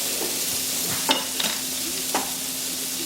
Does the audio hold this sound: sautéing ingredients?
yes